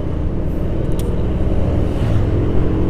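A truck loaded with rice rumbles past on a mountain road, a loud steady engine and road roar heard from close by.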